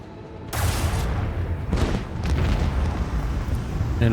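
Starship dorsal guns fire in the Rogue Trader video game, with heavy booming blasts and explosions rolling into one another in a loud, continuous barrage that lasts the whole stretch.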